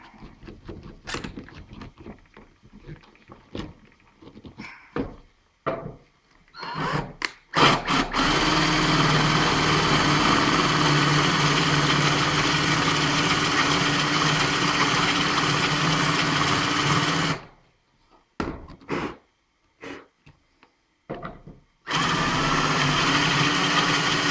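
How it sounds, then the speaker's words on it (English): A power drill augers a hole in wood during a router table install, starting with short stuttering bursts, then a steady, fairly loud whine for about ten seconds, a pause, and more brief bursts before running again. "Auger our hole out again."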